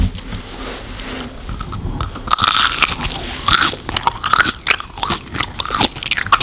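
Close, crisp crunching as someone bites into and chews a McDonald's BTS Meal chicken nugget, a run of sharp crackly bites and chews, with no talking.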